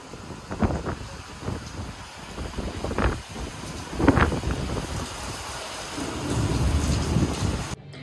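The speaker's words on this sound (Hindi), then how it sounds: "गाइस यहाँ पे हो रही है फुल बारिश" Heavy monsoon rain at a house, falling steadily with low rumbles of thunder and gusts of wind, loud and continuous with no voices.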